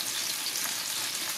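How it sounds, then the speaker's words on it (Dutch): Food sizzles steadily in a pan on a home stove, a constant bright crackling hiss at moderate volume with no talk over it. "Ik ben aan het koken"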